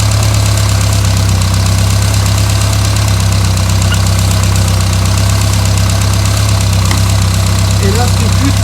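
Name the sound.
Renault Super 5 GT Turbo engine running at idle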